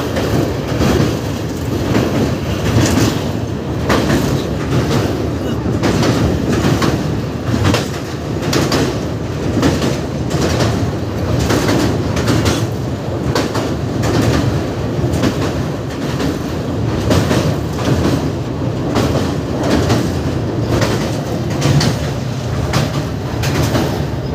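The Howrah–Puri Express rolls along Indian rails with a loud, continuous rumble and steady rhythmic clickety-clack of wheels over joints, heard from on board.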